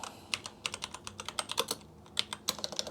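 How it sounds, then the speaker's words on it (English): Close, irregular clacking of a computer keyboard being typed on slowly with one hand, individual keystrokes ticking out at an uneven pace. "I'm typing with one hand, that's why this is slow."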